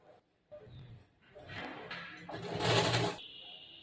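An electric sewing machine stitching a blouse, starting with light handling clicks, then a rising whirring run of stitching that peaks and stops abruptly, close by.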